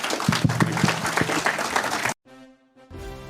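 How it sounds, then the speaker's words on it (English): A crowd bursts into lively applause, many hands clapping loudly for about two seconds before the sound cuts off abruptly into near silence and faint tonal background. "applause, please"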